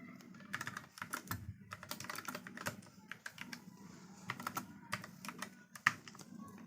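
Code being typed on a computer keyboard for a React pagination exercise: quick, close key clicks in uneven bursts and pauses, with no speech.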